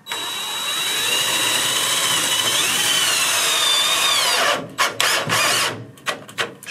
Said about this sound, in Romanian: Dăm câte două șuruburi pe fiecare leaț. Șurub autofiletant de 25